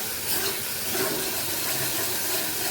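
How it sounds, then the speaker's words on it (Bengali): A spice paste of ground tomato, green chillies and ginger sizzles in oil in a hot pan, giving a steady, close, even frying hiss that continues without a break. "এই যে আমি ভালো করে মশলাটা কষিয়ে নিচ্ছি।"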